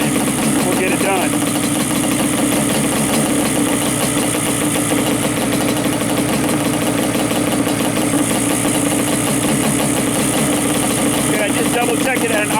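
A Yamaha Banshee ATV engine idles steadily during a carburetor sync, a loud, close, continuous rumble that holds even throughout with no talking.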